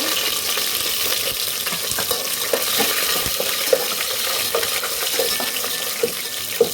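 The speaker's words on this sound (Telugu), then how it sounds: "ఫ్రై చేసుకోయ్యా, చిటాపటా వేగాలమ్మా" Bay leaves and mint crackle in hot oil, a constant close hiss with scattered sharp pops and spits throughout.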